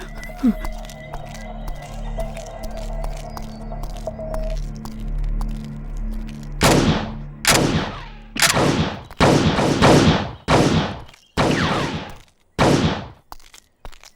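Gunfire in a dubbed South Indian patriotic action film: a quiet, humming scene gives way to a string of about eight loud, sharp shots fired in quick irregular succession, each with a short echoing decay.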